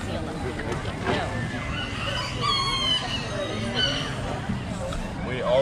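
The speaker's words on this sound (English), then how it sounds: "Chickens." Chickens and a rooster crow at a September 2023 trade gathering, the crowing rising briefly over a steady hubbub of nearby chatter and voices.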